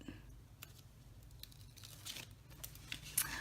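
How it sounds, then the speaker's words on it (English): Tear-and-tape backing being peeled off with a paper piercer or scissor tip, heard as soft crinkling and tearing with small snaps, close and quiet. "just take the backing off of your tear and tape"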